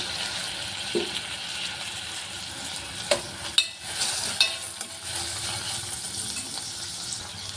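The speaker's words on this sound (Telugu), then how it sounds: "ఆనియన్స్ కాస్త మగ్గిన తర్వాత మనం కట్ చేసి పెట్టుకున్న టమోటాను ఇందులో వేసుకోవాలి" Chopped onions and tomato for a Bombay-style gram flour chutney fry in a pan with a soft, continuous sizzle, broken by a few sharp spoon scrapes and clinks against the metal as they are stirred.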